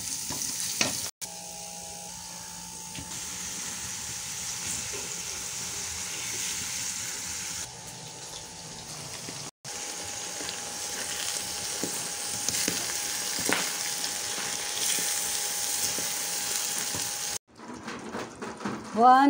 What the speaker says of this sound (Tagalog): Nagisa na tayo guys.